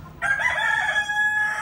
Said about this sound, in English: Chickens seem to be doing okay.